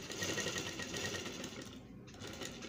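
A domestic sewing machine stitches fabric in a steady, rapid mechanical whir, close and fairly quiet, with a brief dip near the end before the run resumes.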